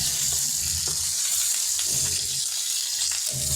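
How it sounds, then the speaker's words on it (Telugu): Chopped onions sizzle and fry steadily in a hot pan while kakarakaya masala curry is cooked, a constant loud hiss with occasional soft stirring knocks underneath. "నెక్స్ట్ తరిగిన ఉల్లిపాయలని అందులో వేసేసుకుందామండి."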